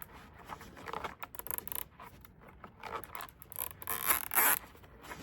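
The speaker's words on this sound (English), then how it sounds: "let's tighten the zip tie in the back, nice and tight" A zip tie is slid in and ratcheted tight around a big ribbon bow on a bow-making tool, a run of close, crisp zipping clicks and scrapes in irregular bursts, loudest near the end.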